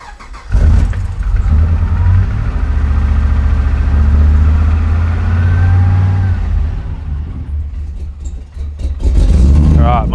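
A car engine cranks and fires up after a fuel system upgrade, then settles into a steady, loud idle with a deep rumble throughout, while a person talks briefly at the start and end.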